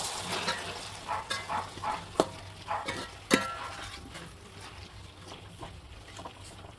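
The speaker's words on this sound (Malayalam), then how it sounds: "ഉള്ളി നല്ലതായിട്ട് വഴണ്ട് വന്നതിന് ശേഷം തക്കാളി ഇട്ട് നമ്മൾ നല്ലതായിട്ട് ഇളക്കി കൊടുക്കാം" A spoon stirs chopped tomatoes into sautéed onions in a pan for chicken biryani, making soft, irregular scrapes and a few sharper clinks against the pan, fairly quiet and close, with no talking.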